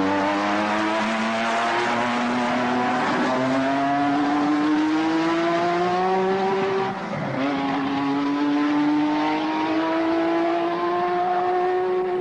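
Formula 1 turbo race car engines at the San Marino Grand Prix, Dino Ferrari circuit, wailing loudly with a rising pitch, a brief dip and gear change midway, then climbing again, no voices.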